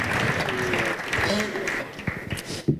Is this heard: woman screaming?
no